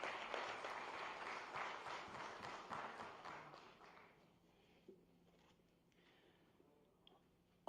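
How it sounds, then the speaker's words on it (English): Dense audience applause in a hall at a government MoU signing event in Gandhinagar, loud and sustained for about four seconds and then thinning to a few scattered claps and taps. "Please welcome sir with a round of applause."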